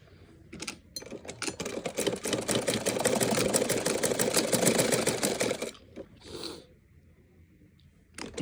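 A sewing machine stitches a fabric strip, running in one steady, fast, rattling burst of about five seconds. It is close and loud, with brief clicks before it starts and handling noise after it stops.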